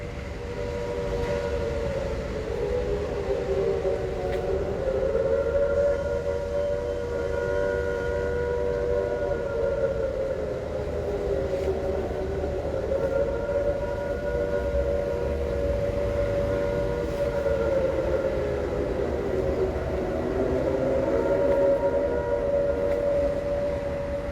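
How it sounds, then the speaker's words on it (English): A wailing air raid siren rises and falls in long, slow sweeps, sounding continuously from a distance for over twenty seconds, at Burnside Park in Providence, Rhode Island. "it sounded an air raid siren."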